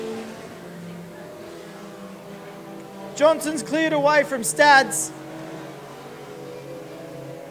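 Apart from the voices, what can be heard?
junior sedan race cars racing on track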